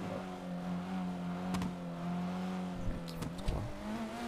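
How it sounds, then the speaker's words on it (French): A car in a GTA role-play game accelerates, its engine droning steadily with rising pitch and a couple of brief sharp spikes. The sound is close and moderately loud, and no one talks. "elle a trop d'accélération ta caisse"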